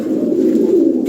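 Racing pigeons of European bloodline coo in a continuous low, throaty murmur, close and fairly loud, with no other sounds.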